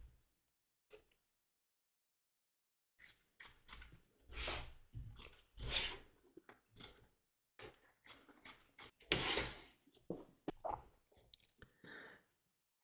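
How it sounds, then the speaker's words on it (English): Scissors snip excess quilt batting away from fabric along a stitch line while making a glasses case, a series of short close crisp cuts and rustles in uneven bursts with brief pauses between. "Trim away the excess batting from around the edge of the stitch line"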